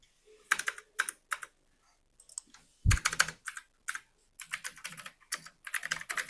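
Code is typed on a computer keyboard in close, uneven bursts of clicking keystrokes with short pauses between runs, and no voice over it.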